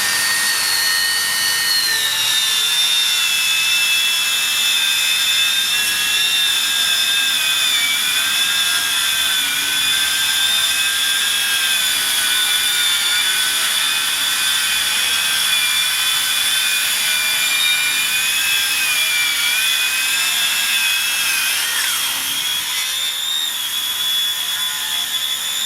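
Cordless 125mm circular saws, a Makita 40v and a HiKOKI 36v, rip through kiln-dried treated pine timber with a loud, steady high-pitched whine that holds unbroken and close for the whole stretch, with no voices.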